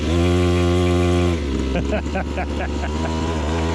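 A cheap small dirt bike bought from Temu revs hard with a loud, buzzy engine drone, then shifts into a choppier, rising note as it pulls away under a heavy rider.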